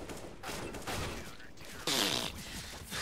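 Rapid automatic gunfire sprays in Counter-Strike: Global Offensive, a continuous dense burst of shots lasting throughout, with a louder stretch midway, heard up close without talk.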